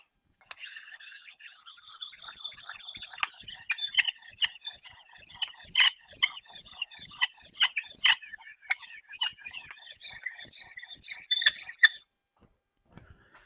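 A rasping, scraping sanding stroke rubs back and forth across the flat deck of an engine block, with irregular gritty bursts that stop abruptly near the end, no talking over it.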